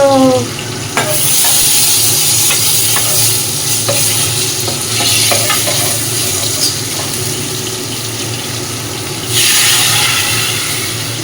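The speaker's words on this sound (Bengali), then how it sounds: "ওদের মাছগুলো ভাজবো ওদের তো অল্প ভাজবো আমাদের তো একটুখানি কড়া করে ভাজতে হবে" Fish pieces frying hard in hot oil in a pan, a loud continuous sizzle with scattered clicks of turning and stirring and a sharper hiss surge near the end, no talking.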